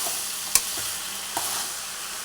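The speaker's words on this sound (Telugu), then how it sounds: "టమాటా ముక్కలు వేసుకొని బాగా కలుపుకోవాలి చక్కగా కలుపుకోవాలి" Tomato pieces being stirred into ridge gourd curry in a pan, giving a soft steady sizzle with two sharp utensil scrapes against the pan, close and without talk.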